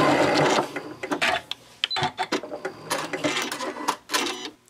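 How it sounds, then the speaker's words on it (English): A sewing machine stitches a zipper seam and then backstitches at the end, running in short, close bursts of rapid needle chatter separated by brief pauses. "and then backstitch when you get to the end."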